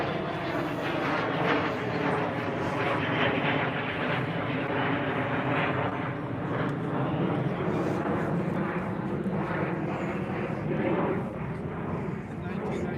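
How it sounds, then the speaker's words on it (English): An airplane passes low near an airport during an outdoor classic car show, a loud, sustained broadband engine roar that stays steady throughout. "Sorry about the plane noises, guys. We are very close to the airport here."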